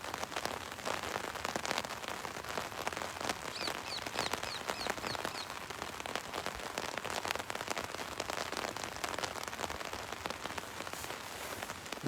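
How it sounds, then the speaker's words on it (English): Raindrops fall steadily onto water outdoors, a dense, continuous patter and splashing close by, with faint bird chirps briefly audible in the background. "Look at the raindrops falling on the water here."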